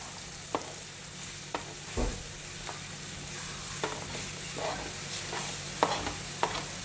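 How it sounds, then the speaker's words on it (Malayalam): Onions sauté in a pan with a steady, close sizzle, broken by a series of spatula scrapes and taps at irregular intervals; no one speaks. "ഒരുപാട് നേരം വഴറ്റണ്ട, ജസ്റ്റ് നമ്മുടെ സവാള ഒന്ന് സോഫ്റ്റ് ആയതിനു ശേഷം നമുക്ക് പയറിടാം"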